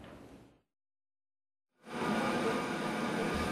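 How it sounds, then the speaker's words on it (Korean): A passenger train carrying holiday travellers arrives at a station with a loud, steady rumble that swells in after a short silence, following a fading earlier noise. "귀성객들을 실은 기차가 들어옵니다."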